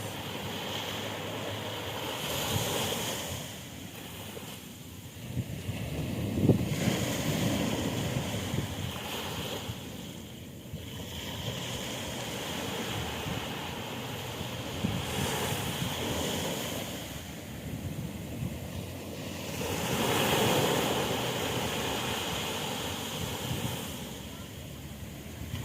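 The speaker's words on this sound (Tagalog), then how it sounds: "Sarap pakinggan ng mga alon." Ocean waves roll onto the shore at a beach resort in Morong, Bataan, surging and receding in slow swells about every five seconds, with steady wind buffeting the microphone throughout.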